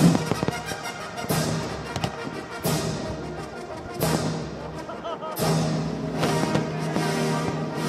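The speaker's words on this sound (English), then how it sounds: "Y acabamos de ver unos fuegos artificiales impresionantes" Fireworks boom repeatedly at a symphony concert in Victoria, British Columbia, large bursts roughly every second or two, with crackling tails over a busy crowd and music background.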